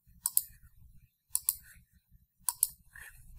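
A computer mouse clicks in three quick double-click pairs spaced about a second apart, crisp and close, with faint quiet rustle between them.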